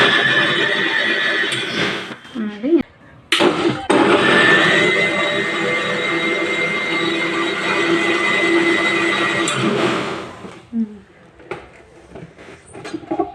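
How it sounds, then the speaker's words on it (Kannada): Kitchen mixie blending orange juice with raw milk in its jar, a loud steady high-pitched whirring motor that starts abruptly, runs for several seconds and cuts off, with brief knocks before and after. "1 ಗ್ಲಾಸ್ ಹಸಿ ಹಾಲು ಹಾಕ್ಕೊಂಡು ಮಿಕ್ಸಿ ಹಾಕೊಳ್ಳೋಣ."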